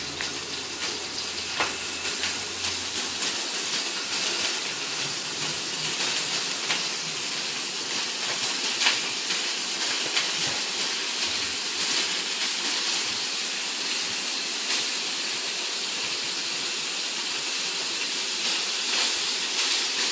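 Scallops searing in a really hot pan give off a loud, steady sizzle and hiss that runs unbroken throughout, with no voices over it.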